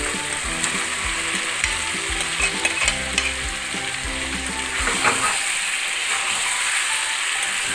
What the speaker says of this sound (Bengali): গোশটা দিয়ে ভালো করে কষিয়ে নেব